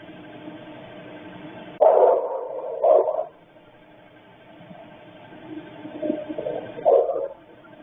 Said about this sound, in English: we're going to start hear the dog barking in a very pronounced way